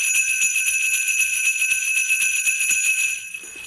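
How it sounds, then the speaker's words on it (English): Sleigh bells jingle in a fast, steady shimmering rhythm over sustained bright tones from a Christmas-style musical arrangement. The ringing is loud and continuous before it drops off near the end. "Sleigh bells."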